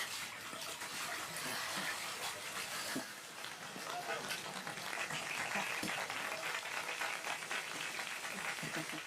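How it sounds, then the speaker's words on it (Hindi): Water gushing and splashing steadily as it starts to flow, a continuous close rushing sound with brief knocks, while people talk over it. "अब पानी आ गया है"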